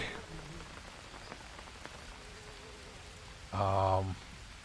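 Steady rain patters across a jungle in the survival game Green Hell, a soft continuous hiss with a brief louder burst of sound near the end.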